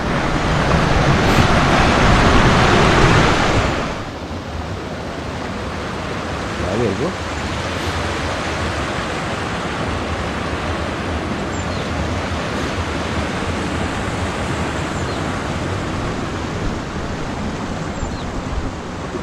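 A waterfall near Kasol and Challal produces a loud, close, continuous broadband roar that stays steady throughout, with a brief louder rushing surge at the start.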